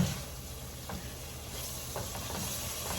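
Chicken sizzles steadily in a hot pan as it browns, with a continuous close frying hiss and a few faint scrapes and pops, and no voices.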